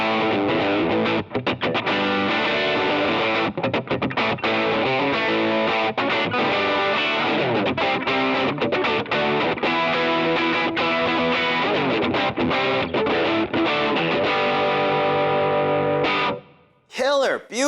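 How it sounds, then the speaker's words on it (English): An electric guitar played through a Rebel Red distortion pedal in a loop switcher, a continuous loud, saturated, sustained riff with chords and notes for about sixteen seconds before it cuts off abruptly. "I have the Rebel Red distortion in loop 1, so let's hear what that sounds like"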